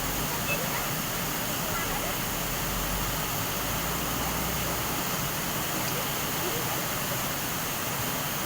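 Floodwater rushes in a steady, dense roar of broadband churning that holds at a constant level for the whole stretch, with no clear breaks.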